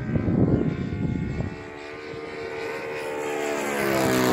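Model Hellcat airplane with a 100-size engine flying overhead, a loud steady propeller drone that shifts pitch as it passes and then rises again.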